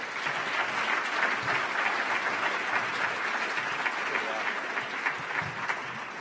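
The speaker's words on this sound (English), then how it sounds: "Round of applause." A crowd claps steadily in sustained applause at a Minnesota gubernatorial debate, a dense even patter of many hands that holds for several seconds before easing slightly.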